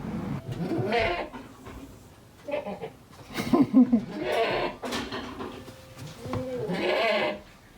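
Several porch goats bleat repeatedly, close and loud, with overlapping cries coming in bursts separated by short pauses.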